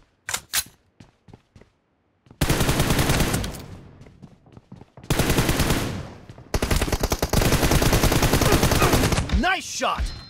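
Rapid bursts of automatic rifle fire in the mobile shooter PUBG Mobile during a friendly assault-rifle match, loud and close, with a few scattered single shots leading into long sustained volleys and brief gaps between bursts.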